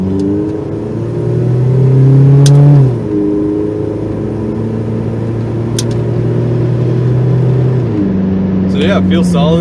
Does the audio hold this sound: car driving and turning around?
yes